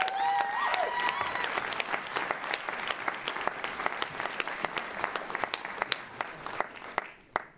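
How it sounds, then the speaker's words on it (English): Audience applause welcoming a speaker onto the stage at a PechaKucha presentation night, a dense steady clapping crowd that holds for several seconds and then thins out into scattered claps. "Ladies and gentlemen, theys and thems, put your hands together for Laurel Green."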